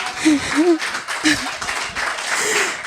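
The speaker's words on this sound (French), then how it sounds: "On applaudit pour cette belle présentation." Audience applause at an end-of-internship certificate ceremony, a steady patter of clapping running under several voices speaking and calling out over it.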